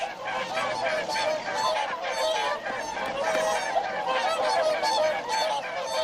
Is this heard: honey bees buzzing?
no